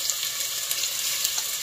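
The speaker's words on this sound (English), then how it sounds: "Always let your oil get hot because you like that happy sizzle sound." Soup ingredients sizzle and fry in hot oil as a steady, bright crackling hiss with small pops scattered through it, close and even, with no talking.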